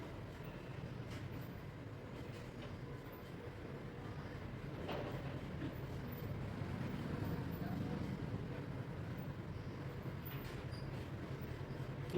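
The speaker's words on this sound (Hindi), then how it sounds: "सिलाई करेंगे" A sewing machine runs steadily while stitching a small woolen dress for a Laddu Gopal idol, a continuous low mechanical whir with faint ticks throughout, heard under a voice talking.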